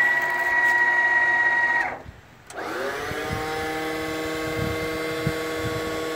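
Electric 4,000-pound winch on an auto crane whining steadily, briefly cutting out and then spinning back up to a sustained mechanical drone.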